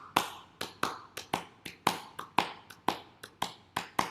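Feet tap out an imitation of a galloping horse in a storytelling class, a quick, uneven clip-clop rhythm of sharp, close taps in loose groups, with no talking.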